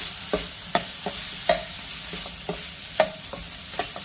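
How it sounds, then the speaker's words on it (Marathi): Spoon scraping and stirring cooked elephant foot yam (suran) coated in green paste in a pan, a series of distinct close scrapes about every half second over a soft sizzle. "आपण थोडंसं परत मिक्स करून घेऊया"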